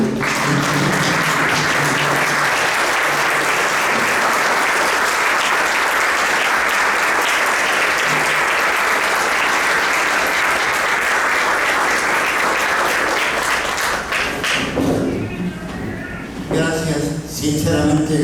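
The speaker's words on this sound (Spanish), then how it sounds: "brindarle un saludo fraterno a través de un aplauso a nuestro" Loud, sustained audience applause in a cultural hall as the crowd stands to honour a carnival music author, dense clapping throughout that thins and turns patchier near the end, with voices then rising over it.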